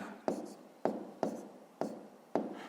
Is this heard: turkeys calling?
no